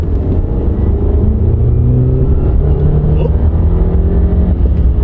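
A car accelerating hard along a small drag strip, its engine roaring loud and steady for the whole stretch as the tone climbs through the gears, with no talk over it.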